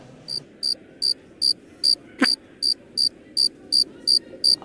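Crickets chirp in a steady, evenly spaced series of about a dozen short bright pulses, close and clear, with one sharp click midway.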